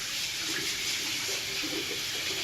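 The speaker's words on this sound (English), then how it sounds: "I'm going to turn the water on, make sure it gets a little bit warm." Tap water runs steadily into a sink as it warms up before hand washing, a continuous close hiss with no talking.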